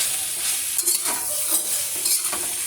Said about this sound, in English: I will mix everything and let it cook for some time.